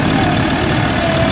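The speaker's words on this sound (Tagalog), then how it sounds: "So ayan yung vibrate, napakalakas." A Ford Ranger 3.2 engine runs loud and close with a constant, heavy rumble, shaking hard with strong abnormal vibration.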